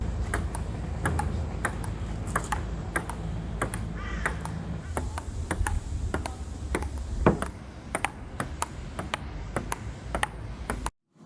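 Sharp, irregular clicking taps of a ping pong ball bouncing on a table, recorded binaurally in a studio, crisp and close, over a steady background hiss, continuing for about eleven seconds.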